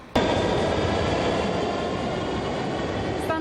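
A metro train at Prospekt Pobedy station in Kazan rumbles loudly and continuously after an abrupt onset, a steady close roar of rolling wheels with a faint squeal near the end, no voices.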